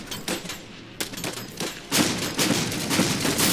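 Rifle gunfire crackles in the dieselpunk war game Iron Harvest, with irregular volleys of shots that thicken into a denser fusillade partway through.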